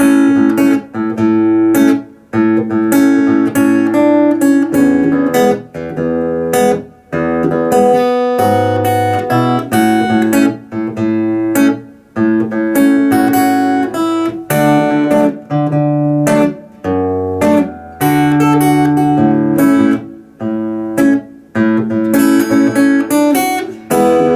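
Fingerstyle acoustic guitar arrangement of a song's verse, plucked notes ringing in a steady, flowing pattern, bass and melody mixed, occasional short pauses between phrases.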